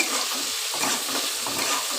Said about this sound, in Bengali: লাল লাল করে আলু পেঁয়াজটাকে ভেজে নিতে হবে